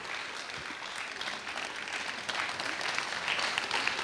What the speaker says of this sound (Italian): vi chiedo un applauso per l'autore e regista Renato Chiocca